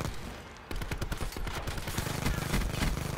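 Rapid bursts of automatic gunfire from the video game Black Ops 4, dense loud shots crackling in quick succession, then continuing as a steady rattling volley.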